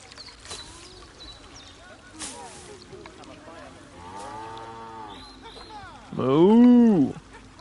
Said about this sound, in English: They moo like a cow.